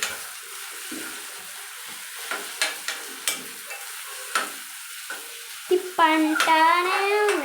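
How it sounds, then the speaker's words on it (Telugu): Tomatoes and ginger stirred in a frying pan, soft sizzling with several distinct clicks of a spoon against the pan, then a louder burst of hissing sizzle toward the end. "అల్లం వేసినాక టమాటాలు వేసుకోండి. దాని తర్వాత తిప్పండి."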